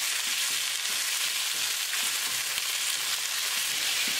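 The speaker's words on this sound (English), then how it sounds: "First we're going to add beef. We're going to cook beef until it's nicely brown." Beef browns in an oiled pan with a steady, dense sizzle of frying, close and continuous, with faint stirring scrapes now and then and no talk.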